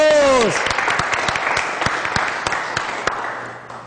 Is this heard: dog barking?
no